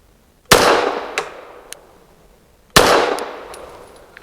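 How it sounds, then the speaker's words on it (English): Two sharp, loud pistol shots from a Girsan Witness 2311S firing 147-grain budget hollow point rounds, about two seconds apart, each with a crisp crack and a ringing decay, plus a faint clink after the first. "Very, very soft shooting."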